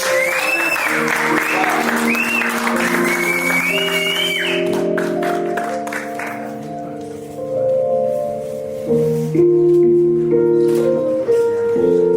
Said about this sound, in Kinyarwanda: Twongere andi mashyi menshi cyane.